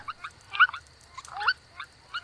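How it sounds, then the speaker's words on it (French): Purple swamphen calls with squawking, honking notes in short bursts, a couple of louder outbursts among softer chatter, against a faint steady hum. "C'était le chant de poule sultane."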